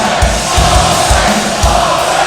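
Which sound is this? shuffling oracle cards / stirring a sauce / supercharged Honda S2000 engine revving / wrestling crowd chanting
wrestling crowd chanting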